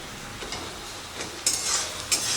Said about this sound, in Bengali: এখন মিনিট 2 মতো মশলাটাকে কষিয়ে নেব।